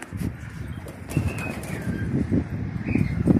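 Pigeons in a loft coo softly and repeatedly at close range, with low murmuring calls, a few higher notes and light fluttering.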